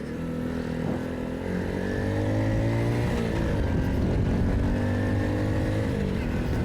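A 2021 BOOM BD125-2 125cc motorcycle riding on the highway gives a loud, steady engine drone mixed with wind rush, its pitch dipping and climbing again midway as the throttle shifts.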